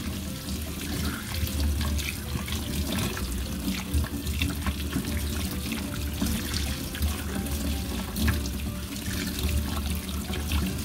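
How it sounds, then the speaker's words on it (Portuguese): Tap water runs steadily over a metal tool being rinsed after a salt-and-vinegar rust removal and detergent wash, a continuous close splashing stream into a sink with no voices. "Agora vamos enxaguar pra gente ver aí o resultado."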